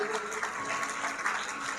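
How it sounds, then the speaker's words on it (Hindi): Audience applause at a revival crusade in honour of Pastor Sundar: a dense, steady wash of clapping that holds at an even level for about two seconds without letting up. "ताली बजा दो पास्टर सुंदर जी के लिए"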